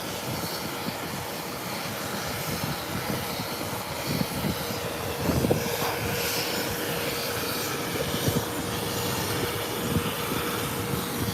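A Cessna Citation business jet takes off at an airport, its broad steady engine roar holding at a distant, even level throughout with no other sounds over it.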